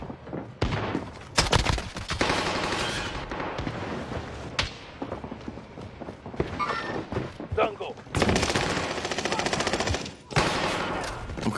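Dense gunfire in the video game War of the Gods: rapid automatic bursts and single loud shots crackle close and far in waves, with a voice speaking over parts of the fighting.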